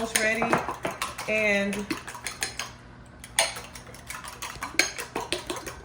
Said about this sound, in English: I'm gonna go ahead and scramble these eggs because it's time